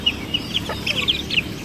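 Native and Brahma chickens clucking in a backyard flock, several short bright clucks and squawks scattered over about two seconds against a low steady background hum.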